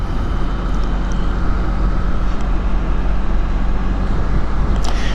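A Can-Am Spyder rolls as slowly as possible over a bridge at night, a steady close engine hum and road rumble with wind noise, constant and loud, with no talking.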